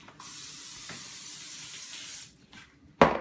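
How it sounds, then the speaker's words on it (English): Cooking spray hisses from a can into a pan in one steady two-second burst close up, followed by a shorter puff and a sharp clatter at the end. "I'm just going to use spray pan."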